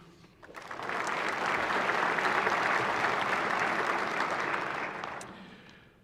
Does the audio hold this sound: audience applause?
yes